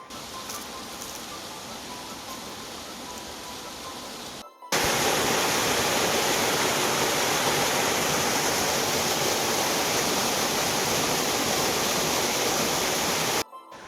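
Loud, steady rush of a waterfall in the Kara Valley near Manali on a trekking trail, a broadband roar that cuts in abruptly after a quieter stretch of distant water and holds constant until it stops near the end.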